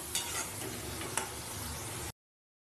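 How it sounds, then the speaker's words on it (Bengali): Eggs being sautéed with spices for an egg curry, a close, continuous sizzle with a couple of spoon scrapes, cutting off abruptly after about two seconds. "যতক্ষণ না ডিমের মধ্যে চারিদিকে মশলাগুলো লেগে হচ্ছে ততক্ষণ অবধি কষিয়ে নিতে হবে ভালো করে"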